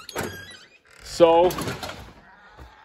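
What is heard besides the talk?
door being opened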